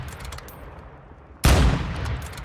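A sudden burst of loud video game gunfire erupts after a quiet stretch of ambient game sound, sustained and dense like rapid automatic shots, in Warzone Mobile.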